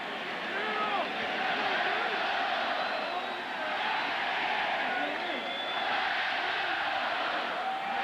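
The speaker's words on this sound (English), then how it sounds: "Maybe the only time a crowd applauds for an official." A big college football stadium crowd at Miami versus West Virginia applauds an injured official, a steady, far-off roar of cheering and clapping that holds for the whole stretch, with a little nearby voice mixed in.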